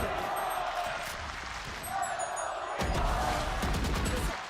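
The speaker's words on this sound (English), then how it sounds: "The crowd finally coming online." A live arena crowd at the VALORANT Champions 2023 esports event in Los Angeles during a close FUT versus T1 match: a broad roar of cheering that swells in the second half, mixed with in-game gunfire.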